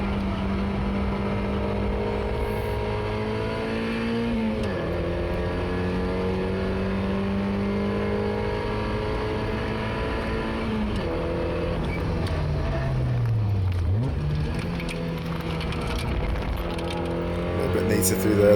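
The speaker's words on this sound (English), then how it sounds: "Really pushing the little MX5 here." A Mazda MX5 is driven hard on the Oulton Park circuit, its small four-cylinder engine droning loudly from inside the car as the revs climb and fall through gear changes, with a driver talking over the engine noise.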